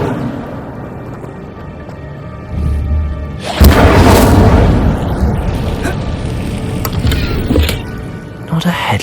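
In Hogwarts Legacy, a burst of the Incendio fire spell erupts with a loud whooshing roar that swells suddenly and then crackles and fades over several seconds, with mechanical clicks before it.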